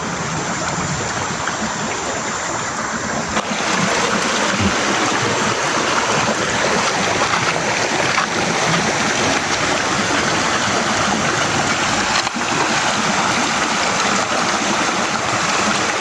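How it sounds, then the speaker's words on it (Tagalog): A river rushing past rocks, a loud, continuous broadband roar of flowing water heard up close for the whole stretch with no talk. "Dumadaan yung tubig ng agos ng ilog."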